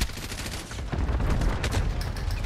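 Gunfire in a Call of Duty Modern Warfare Ground War match on the Promenade map, dense overlapping shots and bursts sounding loud and continuous throughout, with a sharper crack near the middle.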